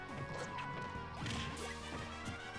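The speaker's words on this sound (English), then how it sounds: "I don't know why the Hydrant makes a, like, flesh-destroying sound when it hits with the up air" Super Smash Bros. for Wii U match where a hydrant is struck by an up air, a harsh crunching smash layered into busy game audio with music and effects, moderately loud and brief.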